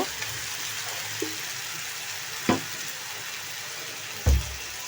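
Noodles frying in a home kitchen pan as soy sauce goes in, a steady soft sizzle with a few brief clinks and stirring knocks, close and fairly quiet.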